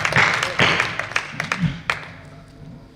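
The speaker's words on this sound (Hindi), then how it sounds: "एक बार जोरदार तालियां, सब पढ़ेंगे आप संदीप भैया" Scattered claps from an audience at a Hindi kavi sammelan poetry gathering in Malhargarh, a few sharp bursts near the start that thin out and fade within seconds.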